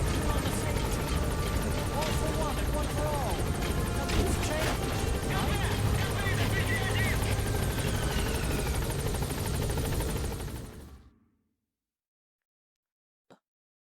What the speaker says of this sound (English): Get to where the chopper's touching down.